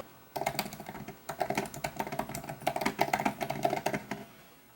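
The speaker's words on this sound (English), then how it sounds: "I'm just gonna type as I usually do" Rapid typing on a 2016 MacBook Pro keyboard, close and crisp, with quick irregular clicks in bursts and brief pauses, no voices.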